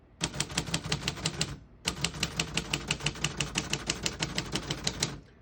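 Rapid clacking of a 1948 Royal Quiet Deluxe portable manual typewriter, keys striking in a quick steady rhythm, a brief pause, then another longer burst; close and clear with no voices.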